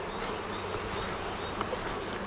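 Honey bees buzz around hive supers in a dense, steady drone that fills the air throughout. Faint scattered ticks and knocks sound underneath the buzzing.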